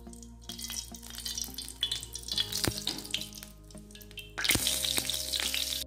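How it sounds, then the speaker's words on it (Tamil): Oil poured into a preheated frying pan for a Tamil sweet, sizzling and crackling steadily with clinks of utensils and a louder burst of hissing near the end, no talking. "இப்போ எண்ணெயை ஊற்றுறேன்"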